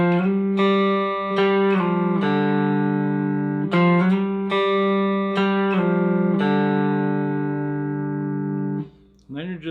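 A cigar box guitar plays a sliding riff, with bright sustained plucked notes that bend between pitches in a steady phrase for several seconds, loud and alone.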